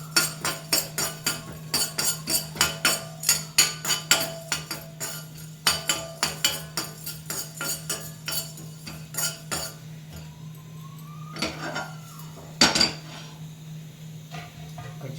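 Fenugreek and cumin seeds with dried red chillies roasting in a metal pan, a close, rhythmic run of sharp scraping and clinking stirs for about ten seconds, then a few sparser knocks over a steady low hum.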